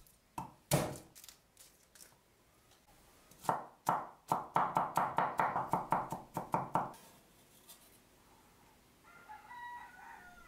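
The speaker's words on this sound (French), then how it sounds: "Je hache 3 gousses d'ail." A knife chops three garlic cloves on a cutting board. Two sharp chops come first, then a fast, steady run of close, crisp strikes, and the sound fades into quiet kitchen background.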